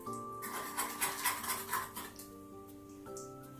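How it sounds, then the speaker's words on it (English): Barbecue sauce ingredients stirred in a kitchen bowl, a utensil clinking and scraping against the sides in several bursts, close and moderately loud, with music faintly underneath. "Now I'm just going to mix this up, and then we're going to put it on the stove and let it come to a simmer."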